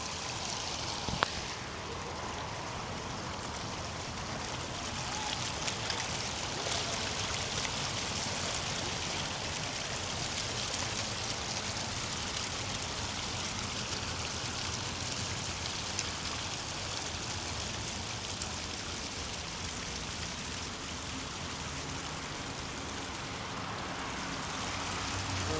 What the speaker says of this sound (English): We're gonna just listen to the babbling brook.